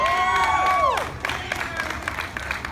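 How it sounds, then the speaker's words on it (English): A crowd at a public gathering breaks into applause and cheering, clapping and whoops filling the space at moderate distance, with a few voices calling out. "Give a round of applause."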